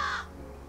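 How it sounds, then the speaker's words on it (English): A raven in the video game Calico gives one short, harsh caw that fades within a fraction of a second, heard alone and fairly faint. "We have a raven now."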